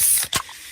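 A fizzy Pepsi can or bottle is opened with a short, close hiss and a quick pop of released carbonation, brief and bright against quiet.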